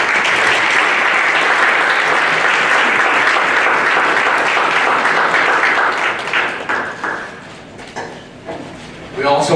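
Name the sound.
audience applause for school board candidates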